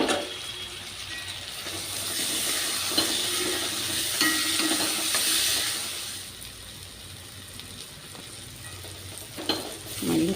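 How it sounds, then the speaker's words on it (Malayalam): Chopped tomatoes sauté in a pan for a homestyle chicken curry, a steady moist sizzle with stirring scrapes throughout, fairly close, with a louder clatter near the end and no voices. "ഇനി ചെറുതായി അരിഞ്ഞ് വെച്ച തക്കാളി ഇട്ട് കൊടുക്കാം"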